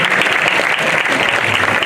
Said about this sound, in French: On applaudit bien fort April, s'il vous plaît.